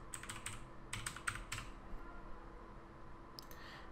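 Keys clack on a computer keyboard as text is typed, coming in a few quick clusters of crisp clicks with gaps between them, quiet and close over a faint background hiss.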